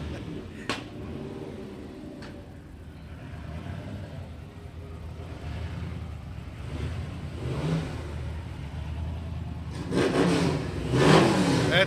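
A GMC Jimmy at a car cruise rolls past with its engine revving and accelerating up close, other vehicle noise and crowd murmur around it, the engine swelling louder toward the end.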